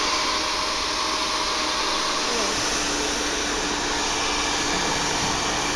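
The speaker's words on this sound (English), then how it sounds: "I've been using the blow dryer, and I've been slowly peeling this off while using the blow dryer to melt this goo" A blow dryer runs steadily up close, heating and softening old traction-pad goo on a surfboard, a continuous broadband whoosh that holds level throughout with no talk over it.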